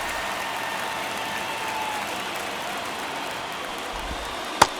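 Constant wash of stadium crowd noise in MLB The Show 24, a baseball video game, steady and roaring like distant applause, with a single sharp crack near the end.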